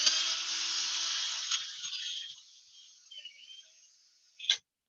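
A 1/8 inch bit drilling a small pilot hole, a steady high whirring bite for about two seconds that tapers off as the drill winds down, ending in a short sharp clack; no talking.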